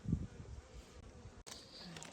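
Steady buzzing of honeybees at a hive hums close by, constant and fairly faint, with a brief interruption near the end.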